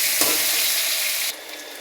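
Raw plantain frying in hot oil with salt and turmeric: a steady, bright sizzle with a brief stir near the start, loud and close, then it drops sharply to a quieter hiss just before the end.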